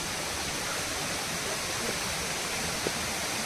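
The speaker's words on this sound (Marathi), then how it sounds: "हा बघा धबधबा दिसतच असेल तुम्हाला" A waterfall in a Konkan village pours with a continuous, even rushing hiss, loud and unbroken, with no voices.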